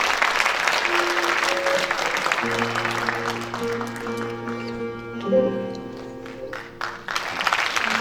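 Concert audience applauding a choir singer's introduction before a Turkish song, steady dense clapping throughout with sustained instrumental tones rising underneath as music begins.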